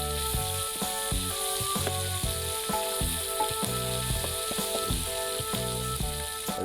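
Masala paste of ground onion and garlic frying in hot oil, a steady loud sizzle with clattering and crackling throughout, no talking.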